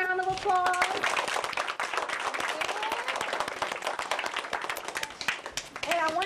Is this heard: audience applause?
yes